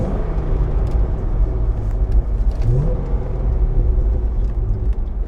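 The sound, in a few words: Chevrolet Corvette Z06 engine accelerating through the gears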